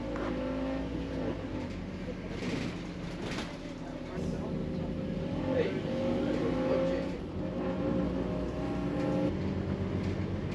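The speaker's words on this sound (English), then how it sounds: "on the climb out of Lulworth Cove, it is evident that this bus's exhaust is blowing a bit" A bus labours up a steep climb out of Lulworth Cove with its exhaust blowing, a steady low engine drone and raspy exhaust chuff heard from on board, with voices talking faintly underneath.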